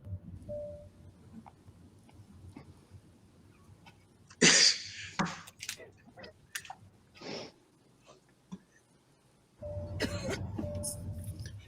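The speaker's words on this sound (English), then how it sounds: "Cough one more again." A few sharp, explosive coughs in a quiet room, one loud burst followed by smaller ones, then a stretch of louder rustling noise.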